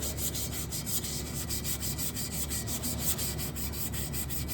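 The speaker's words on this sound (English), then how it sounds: "We want to take some brake cleaner and a piece of emery cloth, and we want to shine that up just like this" Emery cloth rubs rust off a baler netwrap brake drum in quick, steady back-and-forth strokes, a close, rhythmic scratchy scraping with no talk.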